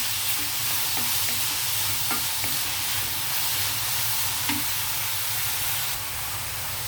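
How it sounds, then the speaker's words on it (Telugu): Onions sizzle steadily in hot oil for a meal maker and raw prawn curry, with a continuous frying hiss and occasional soft stirring scrapes close by, no talking. "కొంచెం వేగనిద్దామండి ఉల్లిపాయలు కొంచెం వేగితే బాగుంటుంది"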